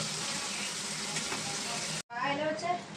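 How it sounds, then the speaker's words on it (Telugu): Potato pieces sizzle steadily while frying in oil for a quick potato curry, a dense close hiss that cuts out briefly and returns with crackling bubbles. "బంగాళదుంపలు మనం ఇలా ఇలా ఫ్రై చేసుకుంటే సరిపోతుందండి"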